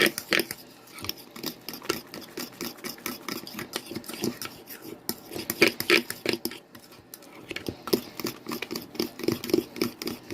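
A spoon scrapes cornbread batter from the bottom and sides of a bowl, giving a run of quick, dry rasping strokes in an uneven rhythm, close and fairly soft, with no talking.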